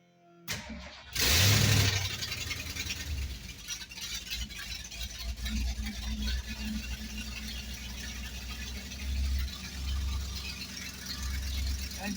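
Big block Ford engine with a tunnel ram intake cranks and catches, then settles into a steady, loud fast idle on a manual choke, running alone with a rough, lumpy pulse close to the listener.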